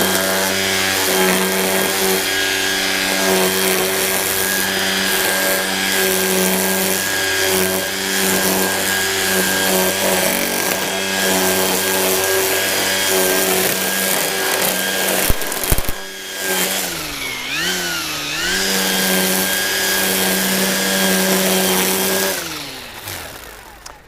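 Ego string trimmer fitted with an AH1531 head cutting along edges, a loud continuous high-pitched motor whine with brief dips and surging pitch sweeps as the line strikes the edge, then a fade near the end.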